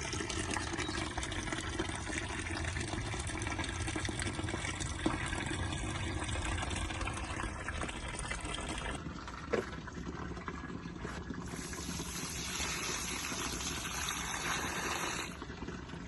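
Water poured into a potted plant in a garden makes a continuous gushing, trickling flow heard close and fairly quiet, with a brief pause and a faint clink partway through before the steady pouring resumes.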